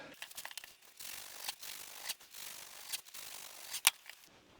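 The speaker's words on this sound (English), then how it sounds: "the serrated edge bread knife offset. First thing I do is cut off the muffin tops" A serrated offset bread knife saws through the top of a soft, airy loaf of basic white bread, with several rasping back-and-forth strokes, close and fairly quiet, and a brief sharp click near the end.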